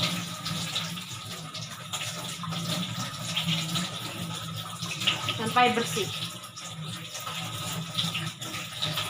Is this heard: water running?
yes